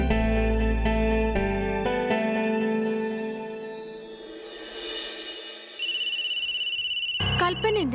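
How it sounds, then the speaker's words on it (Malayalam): A mobile phone rings with a melodic ringtone for an incoming call in a domestic drama scene. Clear electronic tones play in rising and falling phrases, loud and close, for several seconds. "കൽപ്പന എന്തിനാ ഫോൺ ചെയ്യുന്നേ?"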